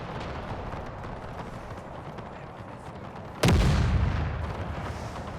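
An artillery gun fires once in Napoleon: Total War with the Era Mod, a sudden loud boom that rolls off slowly over a steady rumble of battle noise.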